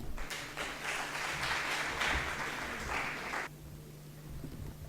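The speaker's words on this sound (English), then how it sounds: "with huge round of applause, Mohammad Hasnain" Applause welcoming a young motivational speaker at a university event: dense, steady clapping from a sizeable audience for about three and a half seconds, stopping abruptly and leaving a quiet room hum.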